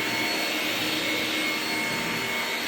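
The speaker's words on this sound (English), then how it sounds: "The vacuum does amazingly well on hard surfaces." A Ryobi ONE+ 18V cordless stick vacuum cleaner runs on a hard floor with a steady, loud, high-pitched whine and airy rush that holds unbroken throughout.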